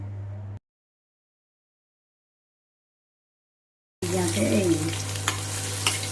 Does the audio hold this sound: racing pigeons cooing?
no